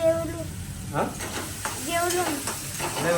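Egg frying with onions in a pan for egg fried rice at home, a soft continuous sizzle with intermittent stirring scrapes, heard under a person talking.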